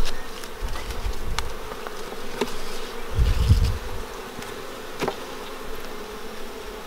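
Honeybees buzz steadily and close at an open beehive while a honey super is added, a dense continuous drone with brief louder swells as individual bees pass near.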